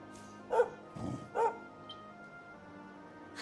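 Dog barks and yips in the Dragon Quest XI video game, three short yaps in quick succession followed by a faint whimper over a quiet background.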